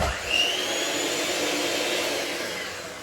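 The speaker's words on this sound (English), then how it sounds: "when I get the mixer ready" An electric kitchen mixer runs with a steady, close motor whir. It rises briefly near the start and then holds evenly, slowly easing off at the end, with no talking.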